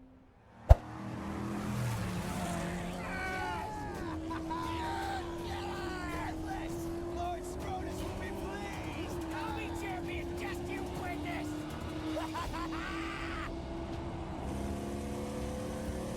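Car engine droning and revving while driving in the video game Mad Max, a continuous motor growl after a sharp opening hit, with voices speaking over it throughout.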